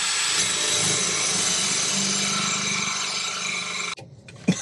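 A power drill cuts a 2.5-inch hole up through the wooden floor of an RV cabinet, a steady, loud grinding whine for about four seconds that stops abruptly, followed by a few faint knocks.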